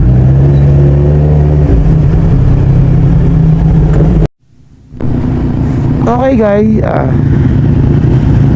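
Motorcycle engine idling and revving in a parking area in the Philippines, a loud steady rumble under a brief spoken word, cut by a short gap and then resuming with rising revs.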